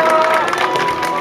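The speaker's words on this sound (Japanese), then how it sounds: "また歓声が上がりましたね。" A spectator crowd cheers and shouts as drivers are introduced at a 1/12th scale RC car racing national championship in Japan. The roar is loud and close, with mixed voices and an announcer-style voice running through it.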